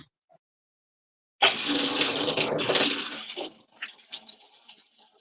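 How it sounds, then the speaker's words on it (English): Kitchen tap bursts on and runs for about two seconds over food being rinsed, then splashes and drips fade out in a few softer gushes, close and loud with no voices. "So we're just gonna rinse these."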